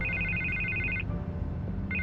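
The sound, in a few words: telephone ringing in the video game Batman: The Telltale Series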